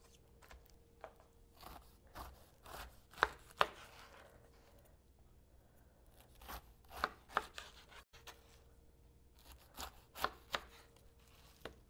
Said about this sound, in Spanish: A continuación, cortará la corteza.